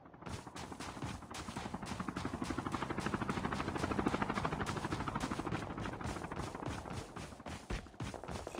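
Helicopter in the Call of Duty video game, a steady rotor chop with rapid pulsing beats holding loud and close throughout, with no talk over it.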